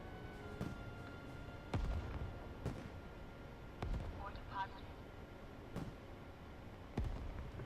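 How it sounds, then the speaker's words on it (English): Rocket launcher fire in the Starship Troopers video game: sharp booming blasts land every second or so over a steady background rumble, with faint game sounds and a quiet voice underneath. "Who's shooting the rocket launcher"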